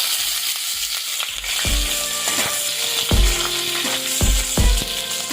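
Whole cardamom, cumin seeds, hing and green chili fry in hot oil, a loud crackling sizzle with repeated sharp clacks of a utensil stirring against the pan, no voices.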